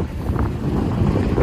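Strong cold wind blows across a mountain road on the Manali–Spiti route, a loud continuous rush and rumble of wind noise at the microphone with no talking.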